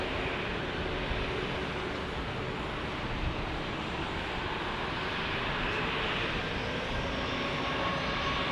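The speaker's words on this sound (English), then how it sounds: "our arrival that's about to fly over my head is United 2491, a 737-900 from Houston" A United Boeing 737-900 arriving from Houston passes low overhead, its loud, continuous jet roar filling the clip with dense, steady engine rumble and no voices.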